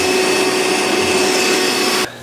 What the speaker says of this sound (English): I would take some Scotch-Brite like this and just Scotch-Brite the area kind of light